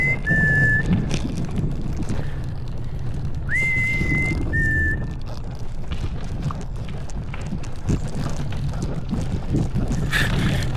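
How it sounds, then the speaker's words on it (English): A person whistles a few short, clear notes outdoors amid steady wind and rushing background noise, pausing between bursts. "If you're wondering why I'm whistling"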